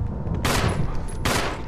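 Two loud gunshots ring out about a second apart in the Resident Evil Remastered video game, each a sharp close crack with a brief decaying tail over a low game background.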